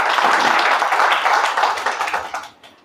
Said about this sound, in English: A big round of applause for her.